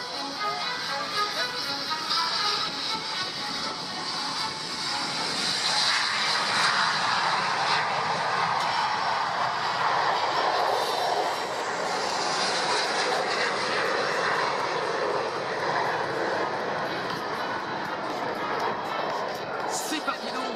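Patrouille de France jets taking off together at an air show, a loud sustained roar and whine of several engines building and holding throughout, under a commentator's ongoing talk over the public address.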